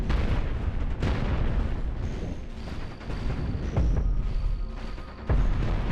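Space combat in Cosmoteer: continuous rumbling bursts of missile impacts and point-defense fire, with heavier booms at intervals and thin high tones drifting over the dense barrage.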